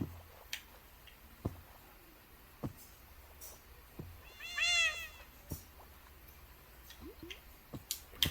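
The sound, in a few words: cat meowing in modded Minecraft video game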